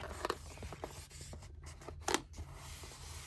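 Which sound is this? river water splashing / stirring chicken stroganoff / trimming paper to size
trimming paper to size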